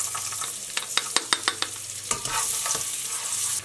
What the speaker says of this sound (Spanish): Vamos a ponerle el ajito.